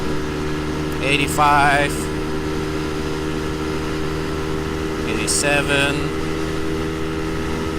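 A Brixton BX 125 X motorcycle engine drones steadily at high revs near 10,000 RPM, with two short rising whines as it shifts, while a rider speaks over it.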